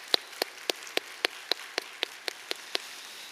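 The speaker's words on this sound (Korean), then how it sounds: "감사의 박수 올렸으면 좋겠습니다." Congregation at a church worship service clapping in unison, about a dozen sharp, evenly spaced claps at a steady rhythm, fairly faint against a quiet background.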